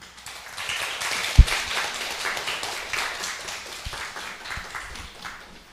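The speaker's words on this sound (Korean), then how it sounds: "우리 두 분 나올 때 큰 박수로 환영합니다." Audience applause at a church gathering welcoming two guests, steady crowd clapping in a reverberant hall that holds through the clip and fades slightly at the end.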